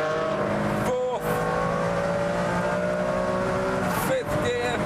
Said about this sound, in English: But now the car leaps out of that corner.